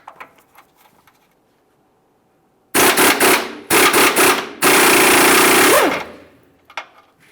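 An air impact wrench fitted with an 18mm socket works on a lower control arm bolt of a 1999-2006 Chevrolet Silverado, three loud close bursts of rapid hammering rattle separated by short pauses, with faint clinks before.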